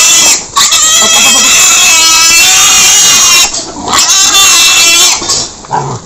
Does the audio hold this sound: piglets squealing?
yes